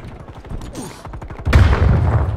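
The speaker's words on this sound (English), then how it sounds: "Stun grenade out." A stun grenade detonates in a first-person shooter video game, a sharp burst that swells into a loud, sustained blast of noise after a stretch of quieter in-game thumps and shots.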